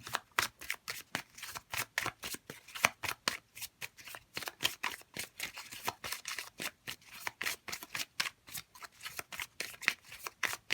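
Tarot cards being riffled and shuffled by hand, with a steady stream of quick crisp flicks and snaps, close and fairly quiet, no voices.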